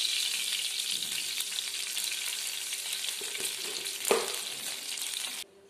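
Oil heating in a pan for frying fish, a steady soft sizzle that holds evenly, broken by a single knock of the pan before the sound abruptly cuts off.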